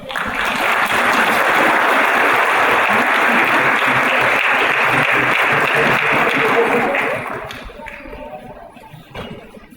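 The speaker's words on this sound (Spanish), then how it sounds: "Así que pido un fuerte aplauso." A lecture audience at a public administration research centre gives a loud, full burst of applause that holds steady for several seconds, then thins out and fades to scattered claps.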